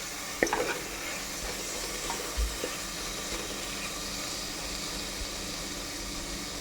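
Tomatoes frying in oil in a pan for a chukakura tomato chicken curry, giving a steady soft sizzle with a couple of faint clinks and stirring sounds, quiet and even throughout.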